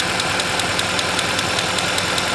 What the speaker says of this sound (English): that ticking noise could be an issue with the camshafts, the lifters, or the camshaft adjusters in the front